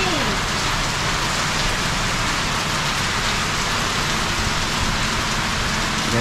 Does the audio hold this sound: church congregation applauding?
no